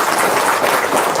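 Brief burst of clapping, a dense even wash of applause from a group with no break or change across the short stretch.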